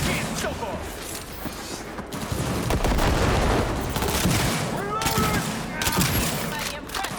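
Dense bursts of automatic gunfire in a Cyberpunk 2077 firefight, loud and near, rattling in clustered volleys with brief gaps, with shouted voices mixed in.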